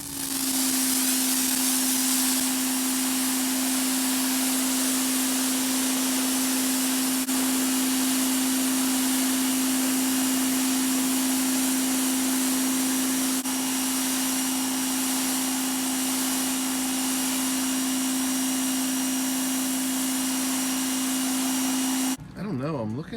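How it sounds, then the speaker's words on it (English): A power washer running on a driveway while cleaning an oil stain, a loud continuous whining hum with hissing spray, steady and close for about twenty seconds before cutting off abruptly. "I feel like I have to power wash it"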